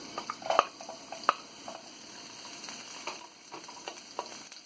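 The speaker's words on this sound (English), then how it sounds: "Frying the jalapeno first." Oil crackles and sizzles steadily as jalapeno fries in a pan, with scattered sharp pops and spatters close by, no voices.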